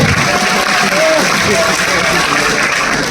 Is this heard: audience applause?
yes